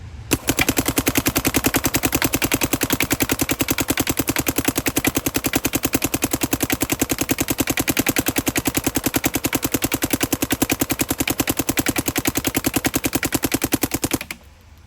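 A paintball marker fires paintballs in one unbroken rapid burst of sharp pops lasting about fourteen seconds. The shots are loud and close, with no voices.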